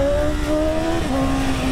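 A BMW S1000 motorcycle with cooking oil poured into its exhaust revving, a loud close engine drone whose pitch holds steady and then dips slightly, with no voices.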